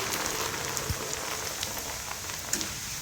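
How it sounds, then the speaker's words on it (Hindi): Flattened rice (poha) fries in hot oil for chivda, producing a dense, continuous crackling sizzle like rain, with a few brief pops. "तो इसमें हम थोड़ा सा पोहा और डाल देते हैं फ्राई होने के लिए"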